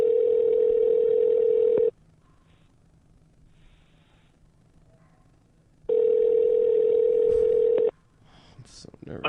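A phone call ringing out over a line, two long steady rings separated by a silent gap of about four seconds, loud and clear with faint line hiss between them.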